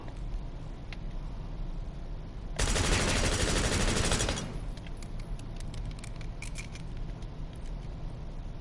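Rapid automatic fire from an assault rifle in Call of Duty: Black Ops 6, a dense, continuous burst lasting under two seconds that stands out loudly over steady background game noise, followed by faint scattered clicks.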